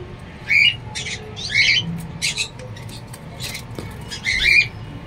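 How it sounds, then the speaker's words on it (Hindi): Diamond doves in a colony breeding enclosure give sharp, squawking calls in several short bursts, close and fairly loud over a low background hum. "लोग बोलते हैं डायमंड डव कॉलोनी में ब्रीड नहीं करता है"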